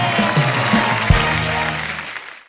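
Studio audience applause for guests on a Kapil Sharma comedy and music show, a dense loud clapping that holds steady and then fades out toward the end.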